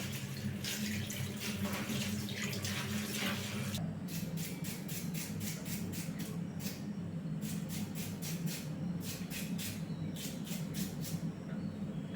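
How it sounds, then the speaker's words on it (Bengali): Water spinach (kalmi greens) being rinsed under running water: a steady close splash and gush from the start, soon joined by rhythmic bursts of swishing and sloshing as the leaves are moved through the stream, with no talking. "শাকটি এখন ধুয়ে নিই"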